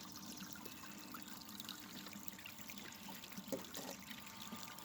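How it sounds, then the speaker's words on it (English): Water runs through a beach sluice in a soft, steady trickle and gurgle, faint and close, with small splashes and light clinks now and then and no talking. "The water seems to be, in my opinion,"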